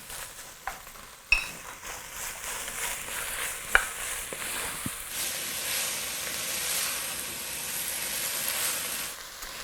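Garlic goes into a pot of Cajun chicken pasta, a soft sizzle under sharp clinks of a utensil against the pot and stirring scrapes, with the frying hiss swelling louder midway.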